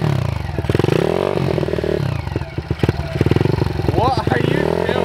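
A pit bike's small engine runs rough and choppy near by, sputtering and revving unevenly, while people talk over it.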